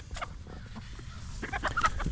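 Homestead chickens cluck nearby in short, scattered bursts, several soft calls overlapping against a low rumbling background.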